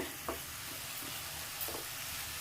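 Paneer barfi mixture cooking in ghee in a pan over medium heat, a faint steady sizzle with a few soft scraping stirs of a spatula spaced through it.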